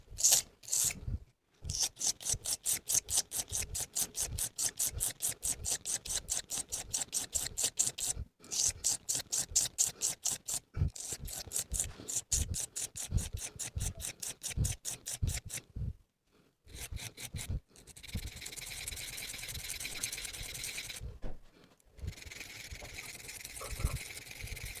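A household kitchen knife is sharpened on a whetstone with rapid rhythmic rasping strokes in long runs, broken by short pauses as the blade is repositioned, close and scratchy with no talk.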